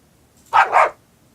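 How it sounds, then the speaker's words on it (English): Puppies in a video game give two quick, loud yapping barks in close succession, clear and alone against near silence. "I think I hear barking coming from down that path."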